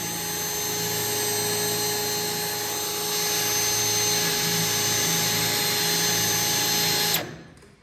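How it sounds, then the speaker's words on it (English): A power drill cuts out spot welds on the rear body of a Mopar Duster, a loud, steady high-pitched whine that holds for about seven seconds before abruptly winding down and stopping. "right now I'm going through the arduous task of drilling out all the spot welds"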